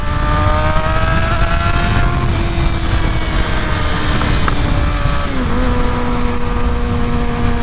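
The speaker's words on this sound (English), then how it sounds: "I have to blip the throttle" Engine of a 2020 Kawasaki Ninja ZX-6R 600cc sport motorcycle, heard steadily and loudly throughout with harmonic engine tones that dip briefly as the throttle is blipped, no voices present.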